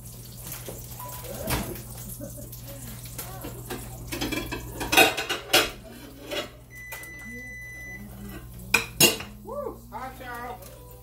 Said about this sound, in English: get me a fresh skillet